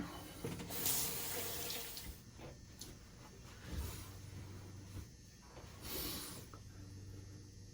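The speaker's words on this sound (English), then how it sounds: "let me rinse off real quick and we'll finish up." Running water from a tap splashing as something is rinsed off, close and fairly quiet, swelling and easing in uneven surges with brief clatters, no talking.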